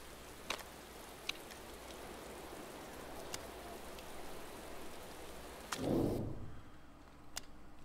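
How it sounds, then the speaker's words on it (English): Heavy rain falls in the racing management video game Motorsport Manager, a steady dense hiss with a few sharp drop clicks and a brief low rumbling swell near the end. "Well, it's raining fairly heavily,"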